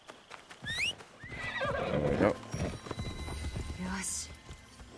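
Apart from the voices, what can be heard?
horse neighing and hooves in Assassin's Creed Shadows video game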